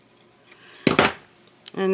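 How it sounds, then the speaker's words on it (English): Scissors snip through the seam of a sewn fabric handbag, with a crisp cut and a couple of small metallic clicks, close and fairly loud with a short quiet gap. "So now I'm just going to go ahead and trim that seam down."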